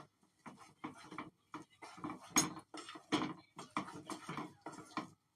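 Milk is stirred briskly in a cooking pan, producing quiet, rhythmic scraping and light clinking strokes close by, repeating steadily with short pauses between them.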